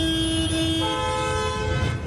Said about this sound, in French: Devant cette station, les coups de klaxon s'enchaînent.